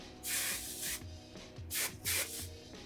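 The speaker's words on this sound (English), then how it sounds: "It's good when you're spraying your curls with hairspray to take different angles." Hairspray hisses onto curled Hollywood waves in several short bursts from an aerosol can, close and loud, with brief pauses between sprays while the hair is worked.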